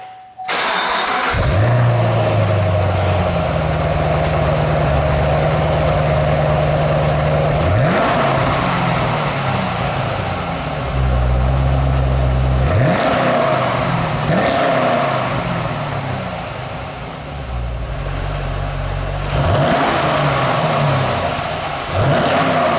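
A Camaro SS engine with its stock exhaust cranks and starts, then settles into a loud idle broken by several sharp revs that rise and fall back, heard close up.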